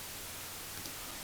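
White noise plays back from a Maxell cassette without Dolby, an even, unbroken broadband hiss that is steady and fairly bright throughout, with nothing else heard.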